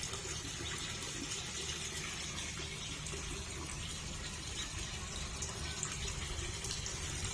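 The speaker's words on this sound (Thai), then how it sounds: "กดน้ำใส่อ่างเลยพี่น้อง" A steady, continuous gush of water pours into an outdoor fish tank, close and unbroken.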